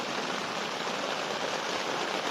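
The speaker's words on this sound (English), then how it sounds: "it is raining bloody hard" Heavy rain pours down hard, a dense, continuous, loud hiss of falling water with no pauses.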